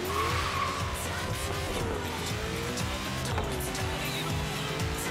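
A Ford Mustang Boss 1969 Horizon Edition in Forza Horizon 3 launches on asphalt, its tires squealing and skidding continuously under a loud, revving engine, close up, with no talk.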